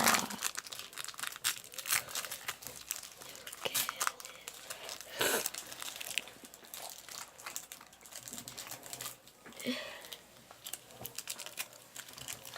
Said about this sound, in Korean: 자 이제 한 번 그럼 뜯어볼게요.